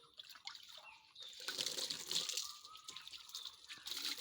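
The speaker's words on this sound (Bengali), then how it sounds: "তো প্রথমে এখানে দেব জল দিয়ে" Water is poured and splashes over plastic chairs before washing, a faint, uneven trickling and spattering that rises and falls.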